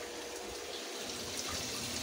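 Water from a GE Filter Flo dishwasher's fill jet sprays and splashes steadily into the empty tub during a mini basket wash, a continuous close hiss with no talking.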